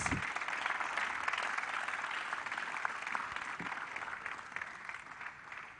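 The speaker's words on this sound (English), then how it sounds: "round of applause till she sits." A round of applause at a church career fair for the keynote speaker as she joins the panel, steady and moderately loud through the whole stretch and fading a little at the end.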